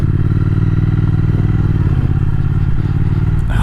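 A 2020 Triumph Speed Twin motorcycle rolling at slow speed with a jerky throttle, its engine chugging loud and close in a continuous low rumble with slight surges and mechanical clatter.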